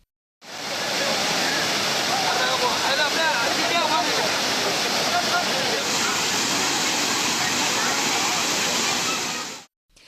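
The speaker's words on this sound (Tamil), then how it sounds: "அருவியில் நீர் ஆர்ப்பரித்து கொட்டுகிறது" Kumbakkarai waterfall gushing after rain raised its flow, a loud, dense and continuous roar of falling water that fills the whole stretch without a break.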